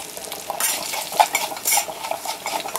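A spoon stirs a pot while making Kerala sambar, with soft scraping strokes and light metallic clinks over a faint sizzle, irregular and close.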